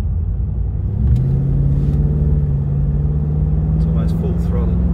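Holden Commodore VF2 SS V8 engine pulling at near full throttle, a steady low droning rumble with a rising tone, heard from inside the car while a person talks.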